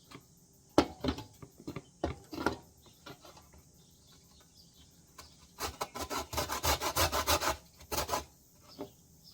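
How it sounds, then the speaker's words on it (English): Lemon skins grated for no-bake lemon slices, heard as scattered scraping strokes at first, then a fast burst of rhythmic rasping near the end, close by and without talk. "So I'm going to grate the skins out."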